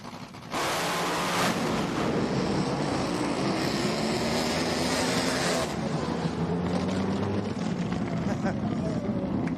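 Outlaw drag boats roar past at around 250 mph during qualifying, a loud sustained engine blast that swells and then fades into distant rumble, with a commentator talking over it.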